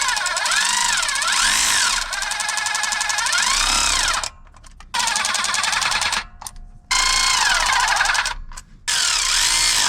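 Power tool snugging bolts on a Polaris RZR 200, loud whirring bursts with rising and falling pitch, cut by short sharp pauses between bolts, close and with no talking.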